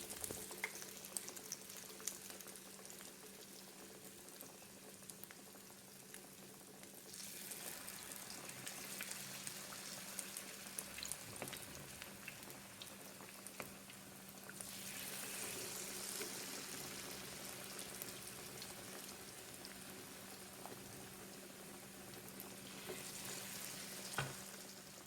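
Stuffed tofu deep-fries in hot oil, giving a continuous soft crackle and bubbling sizzle that swells louder in a few waves over the quiet background.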